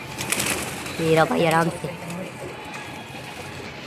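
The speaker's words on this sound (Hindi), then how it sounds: "आज भी एक नया कबूतर पकड़ेंगे" Pigeons coo in a short burst of throaty, warbling calls close by, followed by quieter ambient noise; someone speaks briefly.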